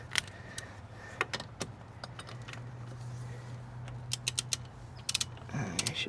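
A socket wrench ratchet clicks in scattered short bursts while fastening parts on a Piaggio Liberty scooter transmission, close and fairly quiet over a steady low hum.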